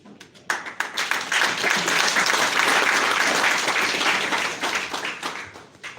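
An audience at a Saturday recognition event bursts into applause, scattered claps building quickly into a loud, dense round of clapping that holds for several seconds before thinning out to a few lingering claps.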